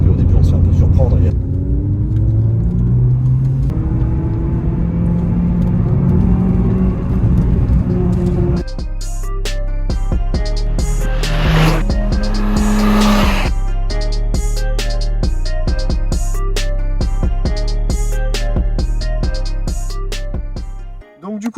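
A Renault Clio 3 RS engine rises in pitch as it revs and accelerates, loud and close, then music and a voice take over while the engine continues underneath.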